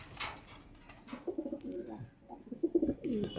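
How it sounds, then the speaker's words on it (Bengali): Domestic pigeons in a loft in Serampur, Hooghly coo softly, with low repeated throaty calls building toward the end, close by and with no talk. "চলো তোমাদেরকে পায়রাগুলো একটা একটা করে দেখিয়ে দিই"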